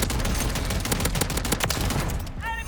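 Rapid, loud shotgun blasts from the Riveter in Modern Warfare 3 on the Shipment map, a continuous close barrage of booming shots with a short tonal beep near the end.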